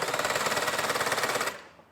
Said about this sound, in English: I'm going to use a drill to spin my PTO shaft just to simulate how that would be on a tractor.